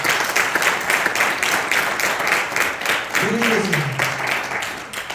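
A church congregation claps in sustained applause, the pulsing wash of hands continuing throughout while a voice briefly rises over it near the end.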